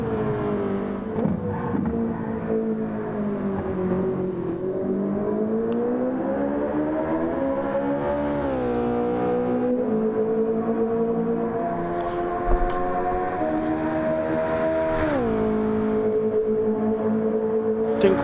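Car engine from a Gran Turismo 7 replay of a night race in the rain, a steady loud harmonic drone that rises and falls with gear changes and throttle for about eighteen seconds, with no talking over it.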